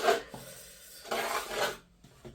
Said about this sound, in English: so I'm going to scrape this off